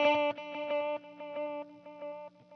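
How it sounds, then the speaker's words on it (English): Electric guitar run through a TC Electronic Triple Delay with its delays chained in serial, a bright repeated note pattern cascading in steady echoing pulses that slowly decay, close and alone with no talking. "So if they're in serial, one delay goes straight into the next."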